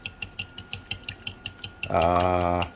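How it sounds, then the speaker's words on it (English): A fork whisks eggs and milk in a bowl with about a dozen quick, even metallic clicks against the side, then a sudden loud, steady hum cuts in and drowns them out. "Normally you whisk it with a whisk, but a fork is good enough."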